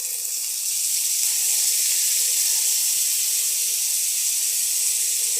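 Two finely chopped medium onions frying in hot ghee, giving a steady, loud hiss and sizzle that continues alone throughout without pause.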